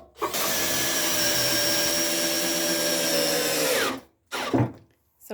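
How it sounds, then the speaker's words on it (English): A power drill pre-drilling holes in clamped wood whirs loudly and steadily for several seconds, then stops, followed by a short second burst as it spins briefly again. "So Grant is now pre-drilling."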